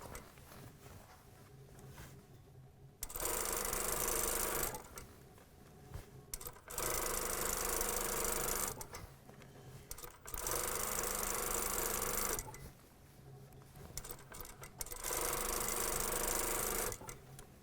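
Sewing machine stitching an elastic hem on a vest, running in four loud, rapid buzzing bursts of about two seconds each, separated by quieter pauses with faint handling noise.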